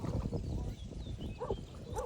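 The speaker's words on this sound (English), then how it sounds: "There's some dogs barking out there." Dogs barking in the distance at a public park beside Lake LBJ, a few faint barks rising over steady outdoor background noise without talk.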